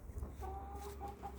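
Roosters cluck softly in short repeated calls at a moderate distance over a low steady background hum.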